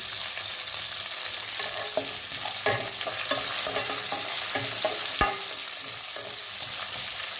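Small sambar onions sauté in a pan with a little salt for a village-style kulambu, giving a steady sizzle and frying hiss broken by occasional stirring scrapes and a sharp clack from a spoon against the pan.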